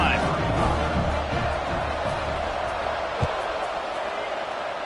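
A crowd at a football stadium keeps up a broad, steady roar throughout, with a commentator talking over it and a single sharp thump near the end.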